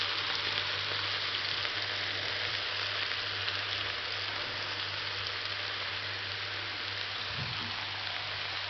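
Mushrooms frying in a pot for a smaženice send up a steady, even sizzle that continues unbroken, moderately quiet, with no talking.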